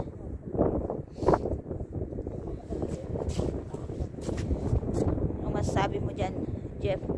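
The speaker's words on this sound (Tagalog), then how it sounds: "Mahangin dito guys." Wind gusts across a frozen lake during ice fishing in Finland, buffeting the microphone with rough low rumbles while someone talks over it throughout.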